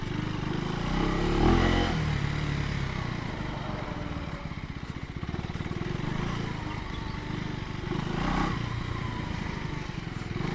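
A 2024 Husqvarna Svartpilen 401 motorcycle ridden off-road on a trail, its engine giving a continuous throbbing drone that swells and eases with the throttle, heard close from on the bike.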